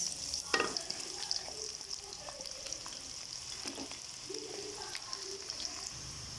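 Whole spices and onions frying in oil sizzle steadily with a soft hiss, while occasional stirring clatters sound nearby at a modest level.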